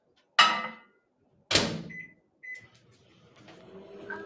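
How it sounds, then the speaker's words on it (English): A microwave oven used to melt baking ingredients: two sharp clunks of the door and buttons, two short beeps, then the low hum of the oven starting to run, all close and clear. "So I'm gonna take it into the microwave for 30 seconds"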